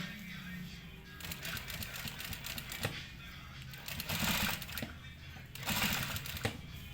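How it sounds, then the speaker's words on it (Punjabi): A sewing machine runs a long basting stitch to attach piping around a round neckline, in several short whirring bursts of rapid stitching separated by brief pauses and light handling noise. "ਇਹ ਤੇ ਆਪਾਂ ਨਾ ਕੱਚੀ ਸਲਾਈ ਲਾ ਦਾਂਗੇ ਇੱਕ"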